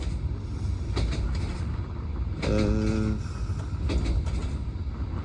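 A passenger train rolls along on a rail journey to Bulgaria, with a continuous low rumble, rhythmic clacks over the rails and a brief squealing tone in the middle. The sound is moderately loud and interior-sounding, and a short vocal sound occurs.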